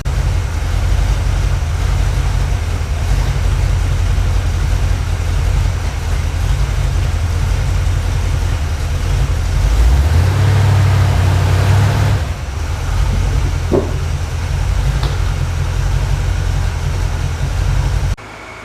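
A 1980 second-generation Camaro with a 5.7 small-block V8 idles loudly and steadily in a garage, a deep continuous rumble with a brief rise in engine speed near the middle.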